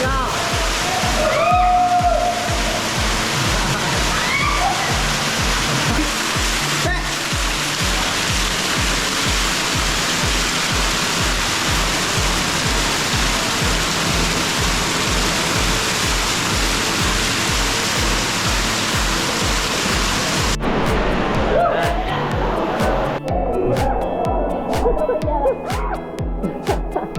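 Water pours and crashes steadily at the Semuc Champay caves and waterfalls in Guatemala, a loud continuous roar for most of the stretch that drops off sharply near the end, with voices talking faintly underneath.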